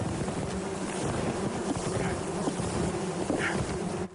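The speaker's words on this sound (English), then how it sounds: "Bird's box is buzzing with a few thousand bees" A box holding a swarm of a few thousand bees gives off a dense, steady buzzing that stays close and loud for the whole stretch, with no voices.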